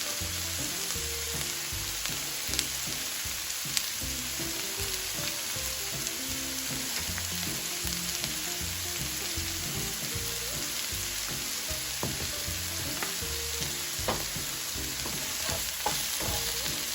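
Onions and mixed vegetables sautéing in a hot pan, a continuous dense sizzle dotted with faint crackles and occasional stirring clicks, no voices.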